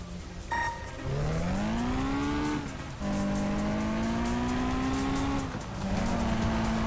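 Engine whine from a car racing on a rally track in the PC game Russian Car Driver, the pitch climbing through gears and dropping at each shift, loud and close without speech.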